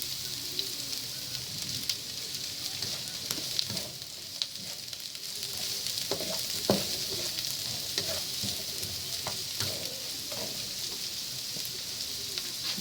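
Onions fry in a pan for pancit habhab, a dense continuous sizzle with occasional sharp stirring scrapes and clicks close by.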